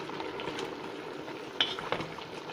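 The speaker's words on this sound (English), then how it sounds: "So I'm actually stirring the meat now to see where we are" Meat stirred in a pot with salt, Maggi and onion, a soft sizzle under scraping spoon strokes, with two sharper clinks against the pot.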